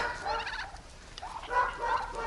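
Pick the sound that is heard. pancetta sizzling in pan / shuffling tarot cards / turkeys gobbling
turkeys gobbling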